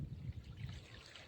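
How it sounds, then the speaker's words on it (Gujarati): Irrigation water runs steadily along an earthen field channel on a farm, a soft continuous trickle and gurgle, faint and close, with no voices. "પાણી જો મસ્ત આવે છે એકદમ ધોરિયામાં."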